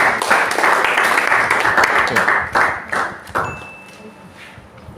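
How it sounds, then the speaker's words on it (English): An audience at a convocation ceremony of a structural academy breaks into a loud burst of applause that thins out after about three seconds, leaving scattered claps and a brief ringing ping. "Please, a round of applause."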